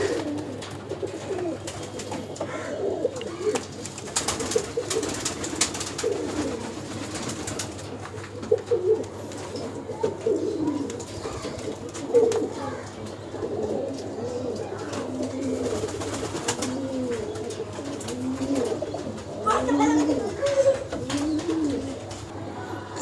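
Pigeons at a crowded pigeon market in Uluberia coo repeatedly in overlapping, throaty phrases, set against a low steady background hum and scattered market clatter.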